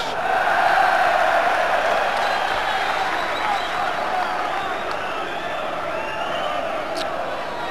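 A large football crowd at Victoria Ground, Stoke, during a 1995 Stoke City v Port Vale match, roaring and cheering loudly and continuously with a swell near the start.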